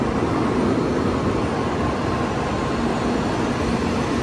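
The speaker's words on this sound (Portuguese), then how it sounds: "Olha o Shinkansen chegando, ó, todo chique" Shinkansen bullet train pulling slowly into a station in Japan, a steady loud rumble and rushing roar with no break, close by.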